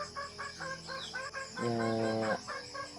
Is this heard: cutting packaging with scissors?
no